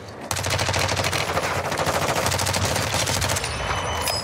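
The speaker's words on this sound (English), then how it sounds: "the aggressive play would be to rotate into that where all the freaking gunshots are" Sustained automatic gunfire in the Call of Duty Warzone video game, dense rapid bursts that run loud and continuous almost the whole time after a brief quiet start, with no talking over it.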